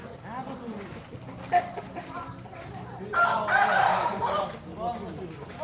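A rooster crows loudly and at length midway through, with hens clucking and people chatting nearby before and after, in a southern Laos village.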